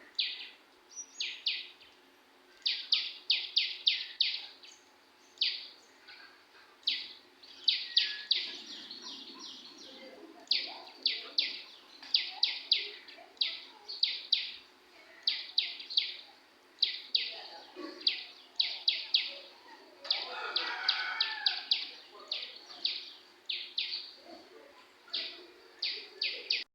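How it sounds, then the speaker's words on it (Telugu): Small birds at a nest on an electricity pole give rapid bursts of high, repeated chirps in steady clusters, fairly faint and open-air, with occasional soft background noise. "చిన్నవి గువ్వ పెట్టలు ఇవి అనుకుంటా భలే సౌండ్స్ అయితే భలే ఉంటాయి"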